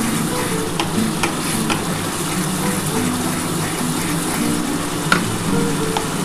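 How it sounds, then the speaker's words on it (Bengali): Live shol fish with spice masala sautéing in hot oil: a loud, continuous sizzle with occasional scraping clicks from a spatula working the pan, close up and without talk. "খুব ভালো করে কষাতে হবে বন্ধুরা।"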